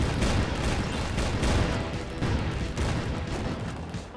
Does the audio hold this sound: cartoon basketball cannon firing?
yes